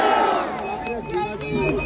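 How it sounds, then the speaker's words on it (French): Rally crowd cheering and shouting for Kémy Séba at a mobilisation in Mali against France, a dense roar of voices that swells again near the end. "On applaudit Kémy Séba."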